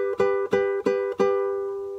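A guitar picks the opening phrase of a Peruvian waltz: four evenly spaced plucked notes with sustained ringing between them, close and clear, no voices.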